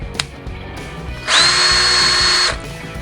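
An Ingersoll Rand D5140 20V cordless drill/driver with a keyless half-inch chuck, set to high speed in drilling mode, revs up for a steady loud whine lasting about a second, then winds down, close to the microphone.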